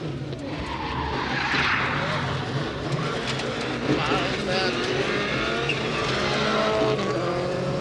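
A rally car spins out on the Network Q Rally in Great Britain, its engine roaring and tires skidding loudly on the surface, continuous and close, with someone talking over the noise.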